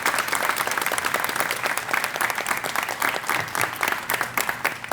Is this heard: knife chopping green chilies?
no